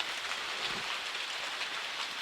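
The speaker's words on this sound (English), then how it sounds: "while we're waiting on this rain to pass" Steady rain falls at a deer camp in Alabama, an even wash of drops on surfaces, fairly soft and continuous with no voices.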